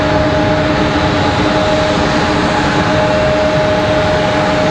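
MD-11 jet airliner at Raleigh-Durham airport, a steady loud broadband roar of jet engines with a faint whine running through it, continuous and unbroken without any voices.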